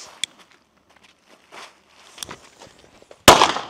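Chinese firecracker set off to welcome the 2024 Lunar New Year: a sharp single loud bang near the end, preceded by small scattered taps, crackles and footstep-like shuffles in a quiet space.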